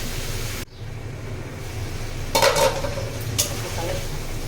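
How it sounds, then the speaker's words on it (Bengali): Ridge gourd, pumpkin, potato, eggplant and pointed gourd sautéing in a pan while being stirred, a steady sizzle broken by a burst of close scraping strokes midway and one more shortly after. "এখানে নাড়িয়ে দিচ্ছি যেন নিচে দিয়ে লেগে না যায়।"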